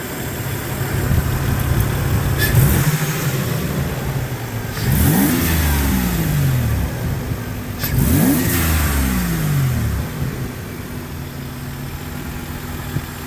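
Turbocharged 1997 Toyota 4Runner with a 3.4 engine, idling close by and revved three times, each rise and fall of pitch clearly audible, with no talking.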